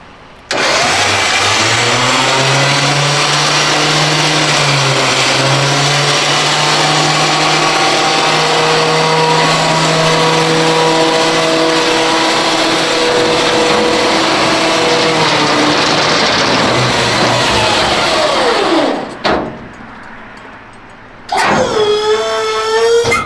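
A 1970 Chevy C-40 mechanics truck engine runs loud and close for a long sustained pull, its pitch climbing and holding steady before cutting off, followed by a brief quieter burst of revving.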